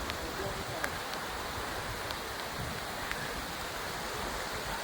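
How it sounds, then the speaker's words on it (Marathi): Steady broadband rush of a waterfall at Mahuli fort in fresh rain, a constant wash of falling water heard from a distance with no break in its level. "तो धबधबा दिसते"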